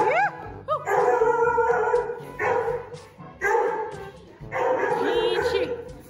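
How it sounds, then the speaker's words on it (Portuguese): A dog barks and howls in several loud, drawn-out bursts close by, with whimpering yips between them. "o cachorro tá latindo"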